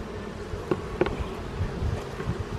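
Honey bees buzz steadily around an open beehive during a hive inspection, a dense continuous hum close by with a few louder passes near the mic and no talking.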